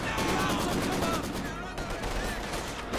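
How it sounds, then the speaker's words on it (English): A Maxim machine gun fires in the Company of Heroes 2 strategy game at an enemy pak gun. The rapid, steady stream of shots continues throughout, with a commentator's voice running over the battle noise. "Maxim firing away on this pack gun"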